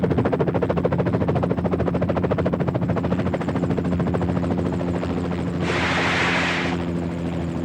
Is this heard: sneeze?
no